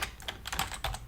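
Typing on a computer keyboard during After Effects work: quick, uneven bursts of close key clicks, fairly loud and alone, with no voice.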